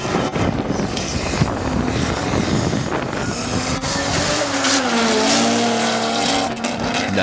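Drift cars racing at a Lone Star Drift event, their engines roaring loud and continuous with rising and falling revs and wind buffeting throughout.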